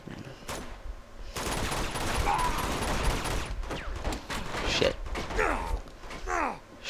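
Gunfire in the video game Uncharted 2: Among Thieves, with repeated shots and bursts crackling through a busy firefight that runs across the whole stretch, sharp transients standing out over a dense mix of game noise.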